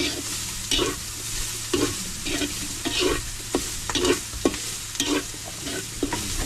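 A spoon repeatedly stirs and scrapes meat sautéing with garlic and onion in a pan for ginataang santol, with steady bursts of stirring over a constant sizzle, close and fairly loud.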